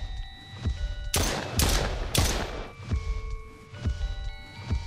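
Bombs going off in the horror game Silly Billy, three loud blasts in quick succession near the start, followed by softer bursts under ongoing game sound.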